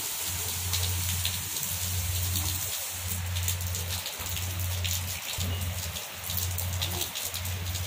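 Rain falls steadily and softly at close range, a dense patter on surfaces under a low, regularly pulsing hum, with no voices.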